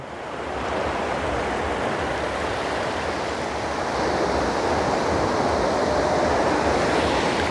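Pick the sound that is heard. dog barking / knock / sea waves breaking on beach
sea waves breaking on beach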